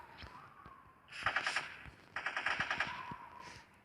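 Gunfire in a modern sniper video game comes as two quick bursts of rapid automatic shots, moderately loud against a quiet background hum.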